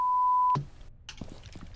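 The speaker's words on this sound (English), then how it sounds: "you're beeping out the word p***." A steady, loud censor bleep tone holds for about half a second, then cuts off abruptly, followed by quiet room noise and faint sounds.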